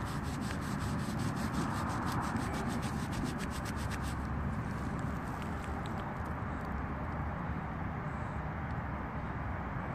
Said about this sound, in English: Let me rub it on my pant leg.